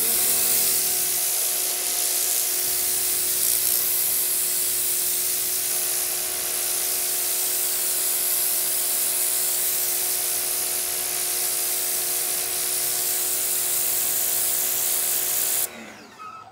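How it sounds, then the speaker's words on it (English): A Sun Joe SPX2688-MAX electric pressure washer sprays a driveway with a steady, loud, broadband hiss and an even electric motor whine, running continuously before cutting off abruptly near the end. "I guess technically it's been a few years since I power washed my driveway."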